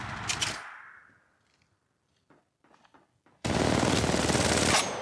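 Gunfire in Apex Legends Mobile, a short burst that fades, scattered quieter shots, then a loud sustained automatic burst closing the clip.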